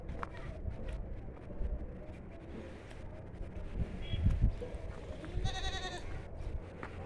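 Goats on a village farm in Pokhari bleat a few times over breezy outdoor noise, with a clearer, louder bleat near the end and people talking faintly in the background.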